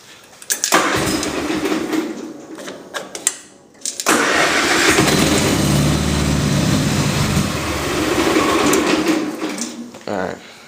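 A small engine with a weak battery is cold-started, roughly running and in need of a carburetor cleaning. A loud, uneven mechanical roar builds and holds after a short sputtering attempt, with people talking nearby.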